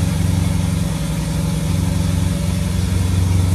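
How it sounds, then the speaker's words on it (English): A Turbo GT with Inconel downpipes runs in a garage after a cold start, giving a steady, loud, throbbing idle with no break. "in the garage, cold start. Turbo GT, Inconel downpipes, JCR. Let's hear it."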